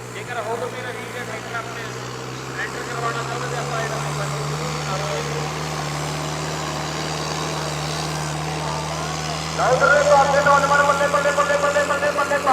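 Sonalika tractor engine runs steadily with a droning, even rumble, then grows louder and harsher as a gear change lifts the revs near the end, with voices talking over it.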